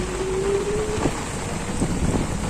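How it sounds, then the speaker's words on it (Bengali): Heavy rain and storm wind during a vehicle ride make a steady, loud, broadband roar that holds evenly throughout, with no one talking. "এই দেখেন কি বৃষ্টি হইতাছে এখন। আমরা বৃষ্টিতে গাড়িতে ভিজেই যাচ্ছি।"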